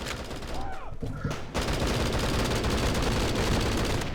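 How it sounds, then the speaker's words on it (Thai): Gunfire in the mobile shooter Bullet Force comes as a dense, loud volley of rapid shots, with a short gap of quieter whistling tones before the firing resumes and carries on. "โอ้ปืนสั้นยิงผมเลยฮะ"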